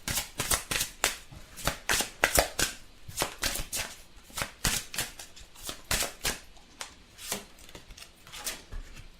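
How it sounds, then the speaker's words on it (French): Oracle cards are shuffled and drawn by hand: crisp, riffling slaps and flicks come in quick uneven bursts close to the listener, with near silence between them and no talking. "Donc je vais tirer quelques cartes de celui-ci."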